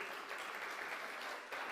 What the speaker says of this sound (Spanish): Un fuerte aplauso para ustedes